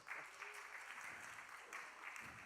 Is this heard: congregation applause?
yes